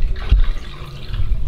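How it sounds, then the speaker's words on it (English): Bathtub water gurgling and swirling down the drain, a low continuous watery rush with a brief louder gulp partway through, close by and with no voices. "Guys, all the water's almost drained out."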